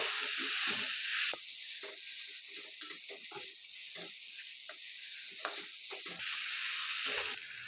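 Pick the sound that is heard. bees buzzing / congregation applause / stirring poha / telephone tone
stirring poha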